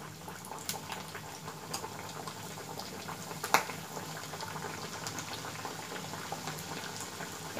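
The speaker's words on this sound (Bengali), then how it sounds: "আমি প্যাটিসগুলো ভাজব।" Egg patties frying in medium-hot oil, a steady bubbling sizzle with faint crackles and one sharp pop midway, continuous and fairly quiet throughout.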